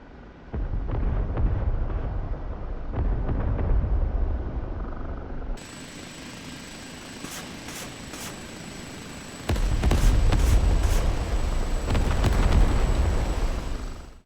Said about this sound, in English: it will continue to fire 1 rocket per pod for as long as you hold down the switch